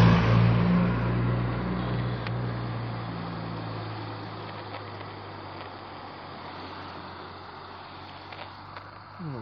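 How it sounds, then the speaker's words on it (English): A car passes near Ulley Country Park at night, its engine loudest at the start and then fading slowly into the distance over several seconds. "Another car there now."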